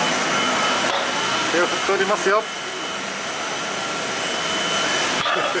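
A jet airliner at Honolulu International Airport in Hawaii produces a loud, steady engine roar that fills the whole stretch, with a person speaking briefly over it.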